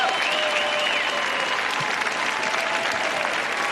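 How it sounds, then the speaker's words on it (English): A magic show audience breaks into steady, full applause, a dense wash of clapping that holds at an even loudness throughout. "Please give him a big round of applause."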